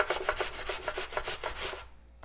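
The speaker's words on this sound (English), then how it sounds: "So our apple is peeled, and just like I grated the sweet potato, I'm using a box grater for the apple." A peeled apple is rubbed down a box grater in fast, even rasping strokes, close and rhythmic, before the scraping stops and a faint tap follows.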